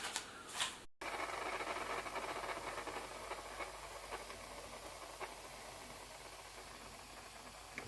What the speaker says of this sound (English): So you can see it is steaming.